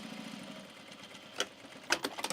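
A sewing machine top stitches men's pants with a soft, rhythmic mechanical chugging, close by, broken by a few sharp clicks and taps toward the end.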